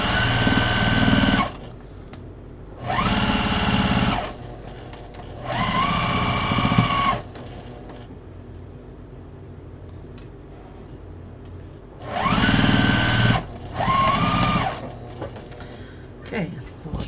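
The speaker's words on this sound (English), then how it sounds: "Let's make sure I'm sewing it right. back stitch." A sewing machine back stitching a quilted wall hanging runs in several short bursts of steady whirring, each a second or two long, separated by pauses with low background noise.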